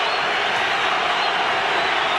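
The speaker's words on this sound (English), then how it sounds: "Crowd really getting into it here." A boxing arena crowd cheering at a Pacquiao–Morales fight, a steady, dense roar of many voices holding at an even level throughout, with no single voice standing out.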